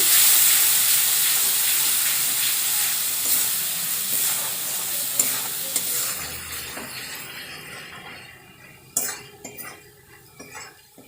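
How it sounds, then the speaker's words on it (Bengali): Spices with Kashmiri red chilli powder and salt sizzle loudly as they fry, fading gradually, while a utensil scrapes and clinks against the pan in irregular stirring strokes. "মশলা একসঙ্গে খুব ভালোভাবে কষিয়ে নেব।"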